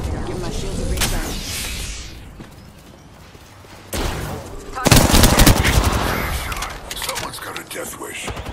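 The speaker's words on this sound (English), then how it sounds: "They're shooting at me. Taking fire." Gunfire in the Apex Legends video game, loud bursts of rapid automatic shots at close range with a brief lull, mixed with in-game voice callouts.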